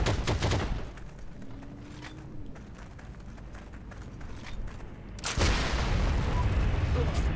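Bursts of gunfire in the World War II shooter game Heroes & Generals, a loud fusillade at the start and again near the end with quieter battle noise between.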